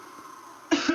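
A commentator's throat-clear cough during an online NHL 94 game broadcast, two sharp close bursts near the end after quiet lead-in.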